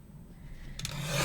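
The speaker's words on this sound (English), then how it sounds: "I'm going to have to trim off that white border" Blade or trimmer rasping across paper as the white border is cut off a photo, a faint scrape that builds into a brief louder rub at the end.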